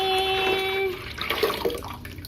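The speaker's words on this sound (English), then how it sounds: "We pour the water back in here again." Water pours into a jug, starting with a rising, ringing fill tone and then turning to splashy, bubbling pouring for about two seconds, close and fairly quiet.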